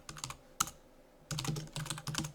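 Quiet keystrokes on a computer keyboard while text is typed into a word processor: a short burst of clicks, a single sharp tap, a pause, then a longer run of brisk typing.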